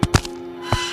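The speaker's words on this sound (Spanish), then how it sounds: "Vamos a cortar la cadena que está aquí." Metal chain being cut in the mobile horror game Endless Nightmare: a few sharp, close snapping cracks, two in quick succession and one more after a pause, over a low steady hum.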